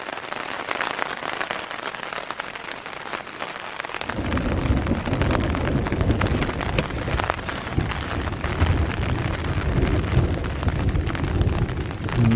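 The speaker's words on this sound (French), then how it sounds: "Ben c'est parti pour l'orage." A thunderstorm rolls in over a mountain campsite in Provence, with steady rain. After about four seconds, heavy rain and low rumbling thunder swell to a dense roar that continues to the end. No one speaks.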